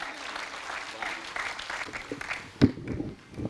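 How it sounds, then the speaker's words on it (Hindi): Audience applause welcoming a comedian onto the stage at a live Hindi comedy event, steady clapping from a moderately distant crowd that thins toward the end, with a loud thump and some voices near the close. "यहां से वहां तक एक बार खुलकर तालियां बजाइएगा"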